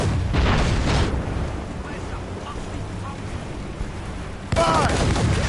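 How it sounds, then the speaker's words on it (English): Ship mortars fire during a naval battle in Assassin's Creed Rogue, with loud booming blasts at the start and near the end and rumbling battle noise and shouting voices in between. "We should fire our mortars, Captain!"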